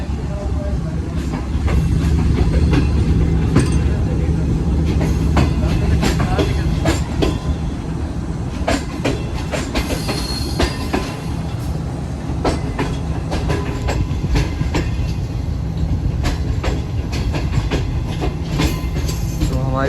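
Shalimar Express train, recently upgraded, running on rails from Lahore, heard from inside an AC parlour car: a steady loud rumble with repeated clickety-clack wheel beats throughout, and talk faintly present at times.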